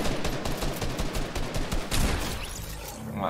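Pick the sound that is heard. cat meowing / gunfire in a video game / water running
gunfire in a video game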